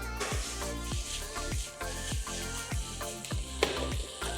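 Plant-based shawarma pieces searing and caramelising in a hot pan, a loud, close, continuous sizzle with repeated crackling bursts.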